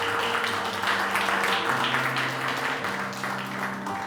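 Church congregation applauding at moderate volume, a diffuse patter of clapping over a steady background hum, continuing evenly for about four seconds.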